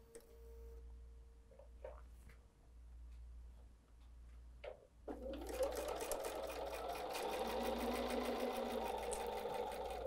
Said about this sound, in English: I might as well just sew right onto this right now since I'm here.